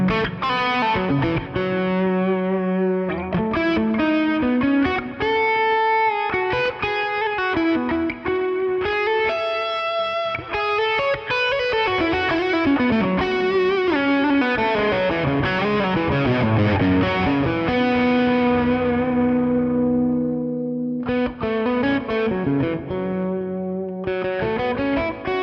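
Distorted electric guitar through a Fractal Axe-FX modeled distortion pedal plays a continuous lead line with sustained bends and harmonically rich notes, loud and steady, a brief pause near the end.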